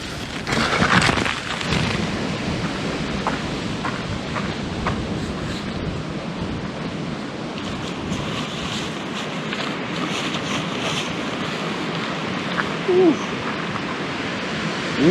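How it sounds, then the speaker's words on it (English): Cold wind roars steadily across a mountain campsite on Mt Passaconaway during a wilderness backpacking trip, a broad, unbroken rush of air that fills the whole clip with a few stronger gusts. "It is windy and cold."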